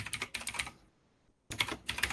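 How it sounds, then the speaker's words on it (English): Fingers type on a computer keyboard in close, quick bursts of clicking keystrokes, pausing briefly in the middle before another fast flurry of keys. "you will start typing in your information"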